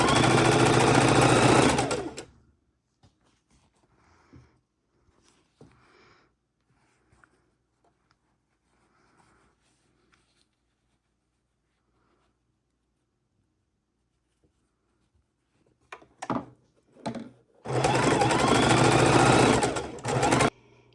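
A sewing machine stitches rows of quilt panel pieces, running loud and steady in two separate bursts at the start and end, with quiet handling of fabric between them.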